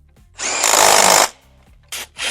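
A power tool on a 2018 Range Rover Velar spins out the last torque converter bolt, giving one loud sustained whirring burst followed by two short, sharp bursts, close up and alone.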